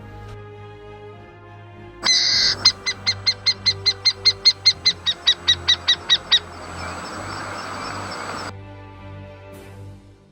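A burrowing owl gives a rapid run of about fifteen sharp, evenly spaced, rasping calls, clear and fairly close against faint background ambience.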